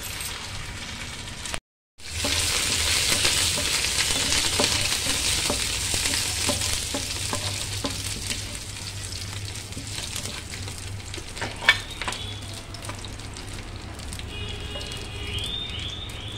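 Urad dal, mustard seeds, curry leaves and chana dal splutter in hot oil for a tempering, a dense crackling sizzle that stops briefly near the start, then continues with scattered pops and stirring scrapes.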